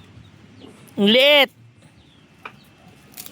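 A chicken gives one short, loud cluck up close, over low background murmur; a person speaks briefly.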